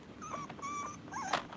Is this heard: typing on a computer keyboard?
no